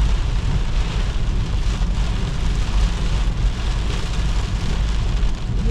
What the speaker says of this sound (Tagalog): Umabot kami sa malakas na, napakalakas ng ulan.